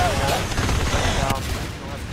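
Shotgun fire in the Natural Selection video game during a competitive match, a dense burst of sharp gunfire blasts up close, with commentary voices running under the shots.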